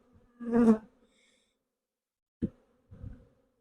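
Honey bees on brood frames from a hive box, a few short buzzing passes close by, one louder drone followed by brief fainter ones amid near silence.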